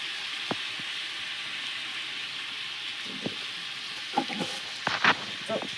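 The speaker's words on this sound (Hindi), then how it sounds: "मैं टमाटर डाल दूँ इसमें और मसाला भी डाल दूँ" Tomatoes and spices frying in a pan for a home-cooked vegetable dish give a steady, close hiss of sizzling oil, with a few soft clicks and scrapes rising near the end.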